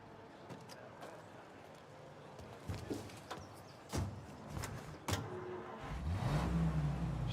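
A car in Mafia Definitive Edition drives along with a low engine hum and road noise, with occasional clicks and thumps and a louder low rumble building near the end.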